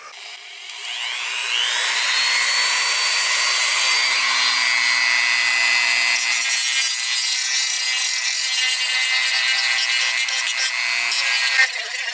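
Sandpaper worked over the frame of a Canik TP9 SFX handgun during stippling, making a close, continuous abrasive hiss that swells and holds for several seconds.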